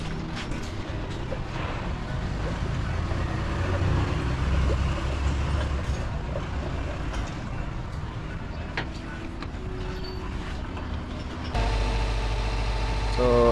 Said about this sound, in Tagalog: umandar na po ang makina na to